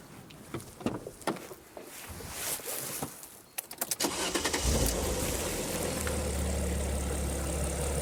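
An Alfa Romeo V6 is cranked and fires up, catching with a loud burst before settling into a steady, rumbling idle close by, after a few seconds of quieter handling noise.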